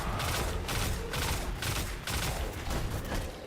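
Gunfire in the video game Destiny 2, a loud, steady stream of rapid shots in repeating bursts with brief dips between them, filling the whole moment.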